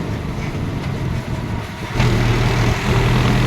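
A tractor engine chugs steadily and loudly up close while riding through a village past orchards and coconut groves, its drone thickening slightly partway through as it pulls along.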